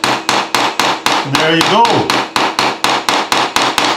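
Small hammer tapping a pin into a toy Dinky or Corgi model car axle, steady sharp metallic taps about three per second, close and loud, with a brief spoken remark partway through.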